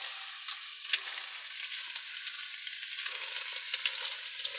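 Dish of mussels frying in a pan, a dense, steady hiss of sizzling oil broken by small scraping clicks as it is stirred, close and alone with no talk.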